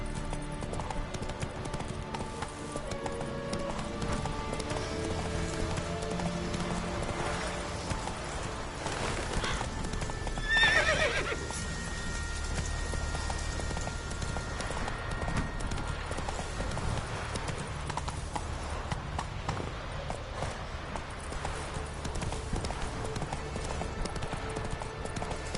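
Roach the horse galloping in The Witcher 3, steady rhythmic hoofbeats running continuously over a game soundscape, with a short whinny midway.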